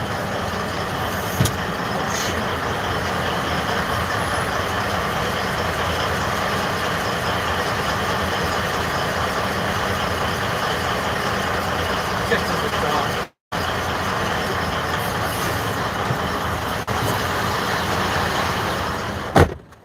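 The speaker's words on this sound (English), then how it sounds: "It's coming out of his exhaust, so it's just a cold diesel engine that's probably out of tune a little bit." A cold, slightly out-of-tune diesel truck engine idles nearby at a truck stop. Its steady, loud, rough rumble goes on throughout, with a brief dropout partway through.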